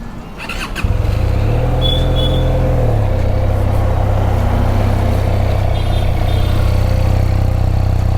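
A QJ Motor SRK 400 twin-cylinder motorcycle engine starts up and settles into a steady, low, throbbing idle that continues evenly, close by and fairly loud.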